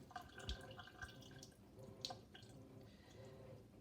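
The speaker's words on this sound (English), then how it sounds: "I just take this over to my sink and I just kind of hold the strainer the way I have it, and I just pour any of the excess water off" Excess water drains from a pot of fettuccini through a strainer into a kitchen sink, a soft uneven trickle with scattered drips and splashes, faint and close, without talk.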